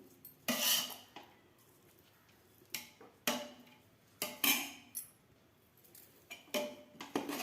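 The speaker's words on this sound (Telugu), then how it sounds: "చక్కగా ఇలా నెమ్మదిగా కలపాలండి, ఎందుకంటే బియ్యం విరిగిపోతాయి." Chicken dum biryani rice mixed gently in a pot, a few separate soft scraping and clinking strokes of a utensil against the vessel, spaced out and quiet with pauses between.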